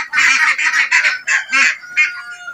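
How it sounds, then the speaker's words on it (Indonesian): Full-grown ducks on a duck farm quack loudly in a run of rapid, overlapping honking calls, close and clear with no talking. "Bebeknya sudah besar-besar sekali ini sahabat ya."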